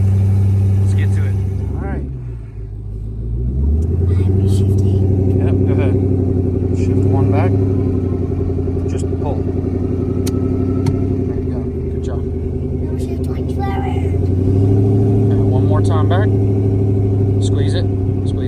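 A Zephyr car's engine runs at a steady low rumble while driving a short stretch of road, with loud ongoing conversation over it and occasional bumps and shifts in the engine note.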